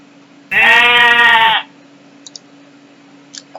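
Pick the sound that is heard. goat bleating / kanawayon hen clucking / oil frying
goat bleating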